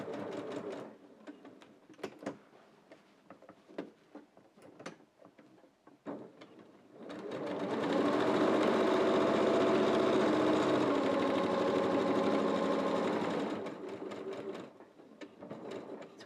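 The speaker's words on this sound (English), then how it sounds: "And then I'm going to sew over the previous line as best as possible" Sewing machine stitching a soft woollen scarf, with a few clicks and handling knocks before the motor starts and runs at a steady, close mechanical hum for about six seconds, then slows and stops.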